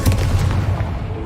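A Confringo spell explosion in Hogwarts Legacy, a single short, heavy boom with a rumbling tail that fades over about a second.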